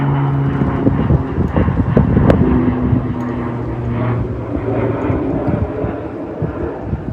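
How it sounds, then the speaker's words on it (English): A firefighting airplane passes over a California wildfire, its broad engine roar steady and fairly loud, mixed with low rumbling and scattered wind and handling noise, with no talking. "oh, here comes another plane"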